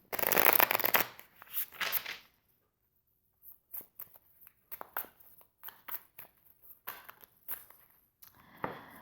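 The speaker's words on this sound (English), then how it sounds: "So let me pull a card now from the I Ching" I Ching cards being shuffled and drawn: a loud burst of riffling at the start, then a pause followed by a series of soft papery slides, flicks and taps, close and quiet with no talk.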